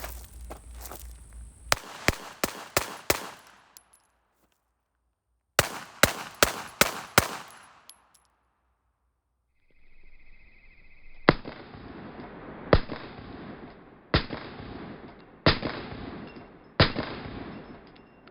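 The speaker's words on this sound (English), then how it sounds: "I'm gonna fire 5 shots leaned into the gun and 5 shots sitting on my heel" Handgun shots at a training range: a first string of five sharp, loud reports in quick succession, a pause, then another five evenly spaced shots, with a short burst of faster shots before them and quiet gaps in between.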